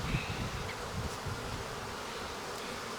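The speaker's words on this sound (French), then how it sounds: "ici tout de suite beaucoup plus d'abeilles" Honeybees swarm over an opened beehive, a dense, steady buzzing that fills the whole span at close range with no voices over it.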